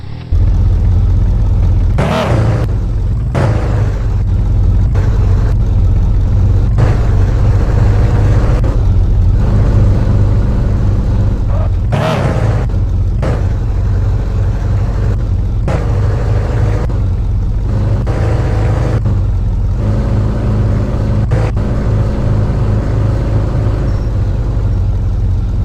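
A white car's engine runs while driving, a loud, steady drone broken by a few brief dips, with no talking.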